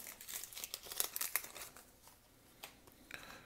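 Foil Panini Spider-Man card packet being torn open and crinkled by hand, close and fairly quiet, with several sharp rips and rustling bursts and no talking.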